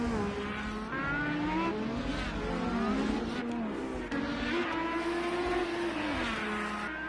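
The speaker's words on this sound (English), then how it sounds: "That is a black in red car coming up behind him." A race car on the Long Beach track in a sim racing league event gives a loud, continuous engine whine whose pitch climbs and dips as it shifts and accelerates, with no talk over it.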